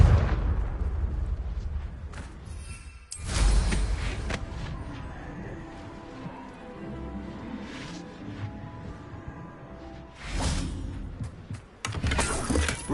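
Spell explosions from Bombarda and Confringo in Hogwarts Legacy on PS5, loud blasts with shattering debris and crumbling rubble, several bursts a few seconds apart over a low rumbling background.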